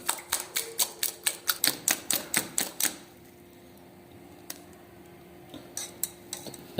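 Eggs are whisked with chillies, coriander and salt for an omelette, a fork rapping quickly and rhythmically against the bowl for about three seconds, then quiet with a few scattered light taps near the end.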